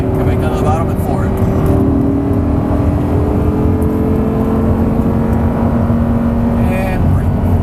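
An Audi R8 accelerates up a hill, its engine a steady, loud drone with rising tonal harmonics that holds throughout, close and continuous, with a voice briefly speaking over it.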